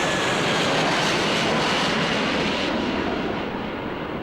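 Airplane flying overhead, a continuous broad roaring engine rush that stays loud and steady, fading slightly at the end, with no voices.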